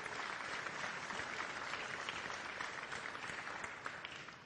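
Steady applause from an audience at the opening ceremony of a community talent event, a dense, even wash of many hands clapping at once, fairly distant and soft, holding throughout and tapering slightly at the end.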